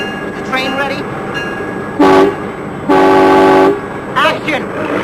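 A train on a film set sounds two loud, sustained horn blasts, one short and one longer, with rumbling movement and clanking between them and a fainter horn near the end.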